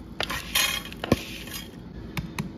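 A spoon clinks against a bowl while pretzels, sugar and melted butter are stirred together, giving a few sharp, close metallic taps over soft scraping.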